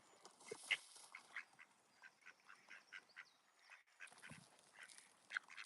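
Several ducks quack in short, scattered bursts at close range, with softer calls between the louder ones over a quiet background.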